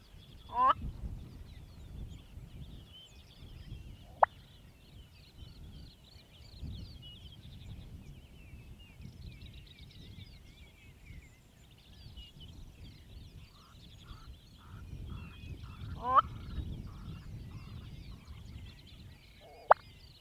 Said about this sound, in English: a black-bellied koran calling on top of a termite mound